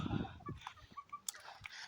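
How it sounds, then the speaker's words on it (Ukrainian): Short honking, squawky calls from domestic ducks bathing among apples, a few scattered quacks with some rustling and background noise, moderately close. "мої качки купаються в яблуках"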